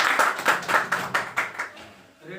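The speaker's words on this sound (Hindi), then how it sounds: "आपके बीच में जोरदार तालियों के बीच इनवाइट करेंगे महागुरु प्रेमचंद बिन सर को" Enthusiastic audience applause welcoming a guest speaker on stage at an RCM gathering, a burst of close, dense clapping for about two seconds that fades out, with a brief voice at the end.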